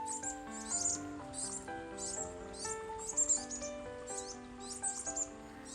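Birds chirp and tweet in quick repeated bursts over a backdrop of sustained melodic tones in the sound garden of the Korea National Arboretum in Pocheon, fairly close and clear, with no talking.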